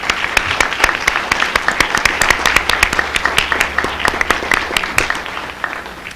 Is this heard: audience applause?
yes